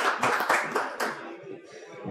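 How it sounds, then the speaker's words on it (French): Brief audience applause for a guest speaker at a talk on government tax policy, a short burst of a few claps that thins out quickly, moderately close in a room. "Et on l'applaudit."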